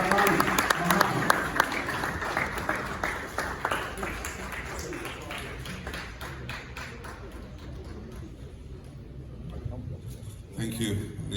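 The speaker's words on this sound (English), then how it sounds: "And with a round of applause, let's welcome the President of the Republic of Ghana, His Excellency, Mahama." A crowd at a Czech-Ghana business event welcomes Ghana's President Mahama with applause, a dense patter of clapping that is loud at first and gradually thins and fades, then briefly swells again near the end.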